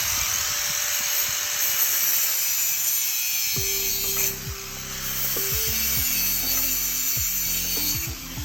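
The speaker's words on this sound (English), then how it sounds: "getting ready to cut this mesh here" Wire mesh with a 6x6 grid is cut for a DIY concrete pad: a tool whines steadily, then a series of sharp, rhythmic rasping strokes and clacks repeats loudly and close up.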